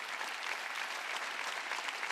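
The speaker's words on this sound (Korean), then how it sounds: "박수 세게 치라고." Congregation clapping hard during a church sermon, an even, dense roar of many hands held steady from start to finish.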